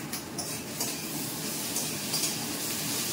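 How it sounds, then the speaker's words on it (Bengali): Fried potatoes go into a pan of okra on the stove, giving a steady, even sizzle of frying oil with faint stirring scrapes throughout, near and moderately quiet, with no voices. "এবার আলুগুলো ছেড়ে দিচ্ছি, ভাজা হয়ে গেছে, ঢেঁড়সটাও এসেছে।"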